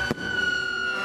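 Fireworks burst at a school anniversary celebration in Oruro with a band present: one sharp loud blast near the start, then a sustained bright whistling tone and crackling hiss that continue steadily to the end.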